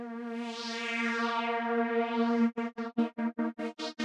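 Serum synthesizer pad heard first as a sustained, sweeping harmonic chord with a shifting filter sweep, then cut into rapid rhythmic gated pulses for the last second and a half, loud and without any voices.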